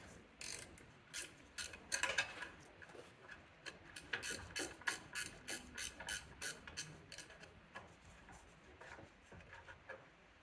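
A ratchet wrench removes a 10 mm bolt from a car horn mount on a 2011–2023 Chrysler 300, giving a quiet run of rapid clicking pawl ticks in bursts, close by.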